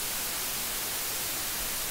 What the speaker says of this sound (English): I'm just gonna play this white noise